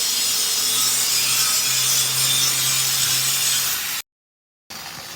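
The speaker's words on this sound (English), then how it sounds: "Now she's on the grinder" Grinder cleaning out an open groove flux core welding coupon, a loud steady abrasive rasp and hiss running for about four seconds, stopping briefly, then starting again, with no talking.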